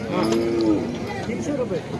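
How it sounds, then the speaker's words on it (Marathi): Bulls for sale at the Mhasa fair, a large bull market in Murbad, Maharashtra, give a short drawn-out lowing call over steady crowd chatter and people talking nearby. "शेतकरी आपला बैल विक्रीसाठी आणताना दिसत आहे"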